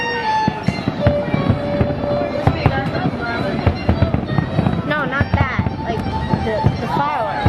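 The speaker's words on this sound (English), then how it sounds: "the fireworks." Fourth of July fireworks over a campus quad burst in rapid, overlapping cracks and booms, some followed by whistling trails, loud and continuous while people talk and exclaim nearby.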